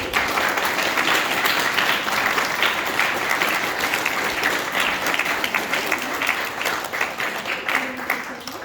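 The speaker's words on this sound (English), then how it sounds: "Give Emmanuel's a big clap, please, everybody." Audience at a graduation ceremony applauding a graduate, a dense, steady wash of many hands clapping close and loud for the whole stretch, with faint voices mixed underneath.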